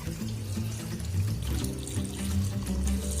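Tap water runs steadily into a sink or pot while preparing keto bone broth in a home kitchen, a continuous close gush with a low hum and no talking.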